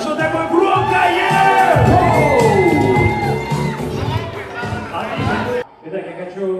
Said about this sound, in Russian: ваши аплодисменты, это были наши девчонки